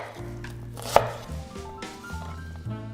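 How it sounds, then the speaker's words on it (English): A knife chops half an onion into small pieces on a board, a rapid run of close, crisp cuts with one sharp louder strike. "We take half an onion and cut it into small pieces."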